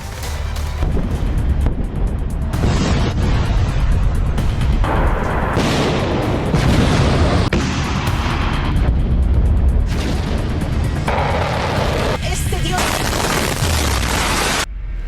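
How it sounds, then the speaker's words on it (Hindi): Loud, dense booms and blasts from missile explosions and interceptions over Tel Aviv fill the whole stretch, overlapping with rumbling and crackling debris. "ईरान तेल अवीव को निशाना बना रहा है और इजराइल ईरान के मिसाइल को इंटरसेप्ट कर रहा है"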